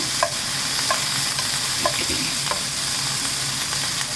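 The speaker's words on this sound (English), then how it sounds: "I'm just going to saute the onions for a minute now." Onions sautéing in a pan give a steady close sizzle, broken by light stirring taps and scrapes of a utensil at irregular intervals.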